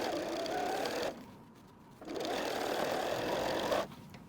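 A sewing machine runs steadily, stitching the side panel of a messenger bag, with a brief pause in the middle before the whirring resumes close and clear.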